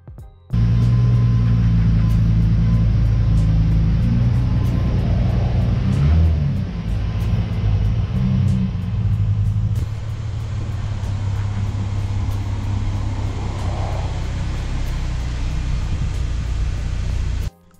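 A car engine idles and rumbles nearby for most of the stretch while vehicles are repositioned, with a brief rev partway through and a steady low drone until it shuts off.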